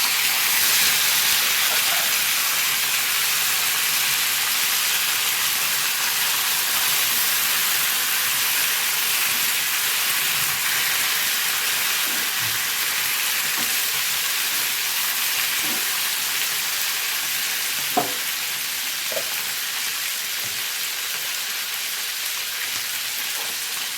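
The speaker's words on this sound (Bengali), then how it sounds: "বাদামটাকে ফোড়নের সাথে ভেজে নেব ভালো করে।" Peanuts and chopped tomatoes fry in a hot spiced tempering in a pan, giving a steady broad sizzle and hiss that runs unbroken throughout, with a few faint pops and clinks and no talking.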